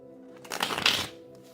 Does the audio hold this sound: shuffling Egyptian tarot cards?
yes